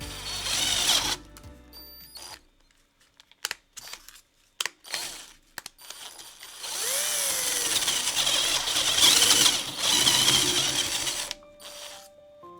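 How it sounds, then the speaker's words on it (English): A power drill grinds through stacked layers of wood and cardboard in bursts, whirring loudly, cutting out into short silences and stuttering starts, then running in a long sustained push before stopping. "I can see the tip of the drill bit coming through"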